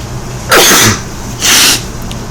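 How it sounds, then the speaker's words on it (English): Two forceful sneezes burst out about a second apart, loud and close, with a breathy, sharp onset and nothing else in between. "excuse me, I sneezed a lot."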